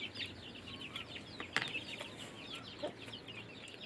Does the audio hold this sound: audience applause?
no